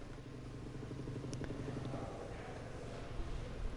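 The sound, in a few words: motorcycle leaving pits at Portimao in racing video game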